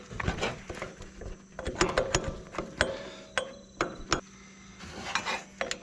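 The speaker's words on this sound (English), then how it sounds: "Six-point socket to the rescue." Six-point socket on a ratchet wrench working a stubborn bolt during a car water pump job: irregular metallic clicks, clanks and ratcheting bursts, close and fairly loud with brief pauses between.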